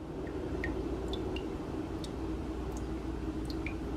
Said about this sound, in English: See how thick that is as it drips in?